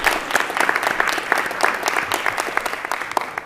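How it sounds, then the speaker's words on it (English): An audience at a city council meeting claps steadily for a community committee volunteer, a dense, even patter of many hands that sustains throughout at moderate loudness with no speech over it. "Let's give this gentleman a round of applause for volunteering for our community."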